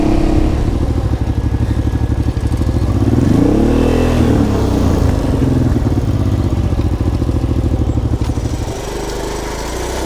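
Old Honda motorcycle engine running close by, a steady loud clattering putter that swells briefly as revs rise, then settles back to a lower idle near the end.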